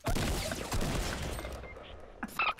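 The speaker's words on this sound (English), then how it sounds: "I'll shoot you again" Gunfire in Fortnite Battle Royale crackles as a rapid burst of shots, dense at first and then sparser, with a laugh and a few short game sounds at the end.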